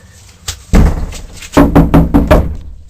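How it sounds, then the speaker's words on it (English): Knocking on a door: a few single raps early on, then a firm burst of four loud, evenly spaced knocks, close by and with no talking. "Please don't knock on the door."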